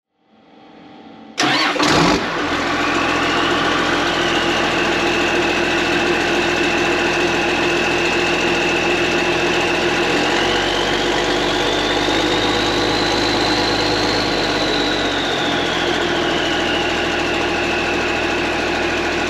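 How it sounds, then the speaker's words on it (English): A car engine fitted with an old muffler cranks and catches after a brief quiet moment, then settles into a steady, loud idle for the rest of the clip with a faint whine drifting over the rumble. "I'm gonna slide that old muffler on quick, start it up just so you guys can hear what it sounded like."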